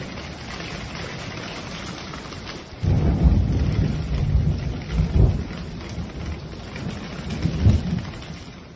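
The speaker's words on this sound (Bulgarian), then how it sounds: "Бурята е толкова силна, че покрива на тази къща не е издържал." A strong thunderstorm, fierce enough to tear a house roof, brings heavy rain pouring steadily, with loud rolling thunder breaking in suddenly and swelling again in several rumbling surges.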